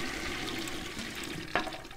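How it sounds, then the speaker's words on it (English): Toilet flushing in a bathroom, a steady rushing wash of water running throughout with a brief louder gurgle near the end, close and alone without speech. "Yep, it was successfully flushed away."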